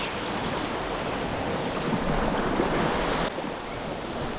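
Sea waves surging around the Candle Flame Arch, a coastal rock arch seen from a kayak: a loud, continuous rushing wash of churning water with wind buffeting the microphone, easing slightly toward the end.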